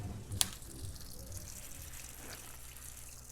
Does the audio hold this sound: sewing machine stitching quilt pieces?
no